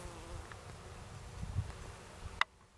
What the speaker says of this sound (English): You hear all the bees, I hear them.